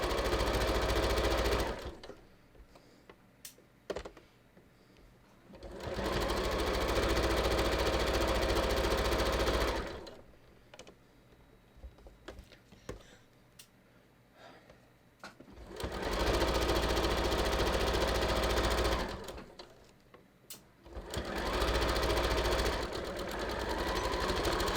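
A sewing machine stitches a non-stretch cover for a dress form, running in three loud sustained bursts of rapid whirring separated by quiet pauses, close by with no talking.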